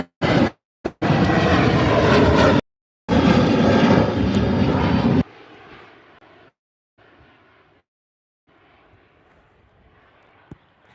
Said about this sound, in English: Next two aircraft lining up, we have a 757-300